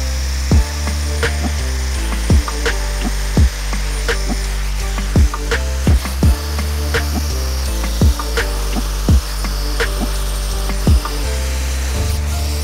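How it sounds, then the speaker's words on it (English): Paint stripper disc on a power tool scouring the gasket surfaces of a 360 Magnum engine block, a steady grinding whir running throughout with sharp scraping bursts and clicks every second or so. "Next up, gonna hit our china walls with the paint stripper, get those nice and clean."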